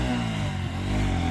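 A motorcycle engine drones steadily on a mountain road near Kalinchowk in Nepal, a low rumbling hum heard at moderate distance that holds fairly constant without voices.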